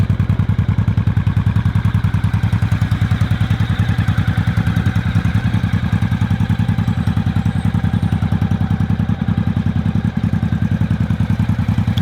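A 1985 Honda Shadow motorcycle engine idles loudly and close by, its rapid, even exhaust pulses thumping steadily throughout with no change in pace and no voices.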